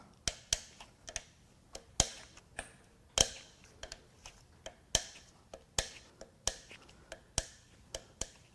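Camshaft bearing caps on a high-mileage 2001–2005 Honda Civic 1.7L D17 engine being loosened, a series of about fifteen sharp, close clicks and ratchet-like ticks in an irregular rhythm with quiet pauses between.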